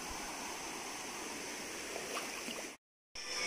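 River water rushing steadily at a bathing spot, a continuous broadband wash that cuts out abruptly for a moment near the end before resuming.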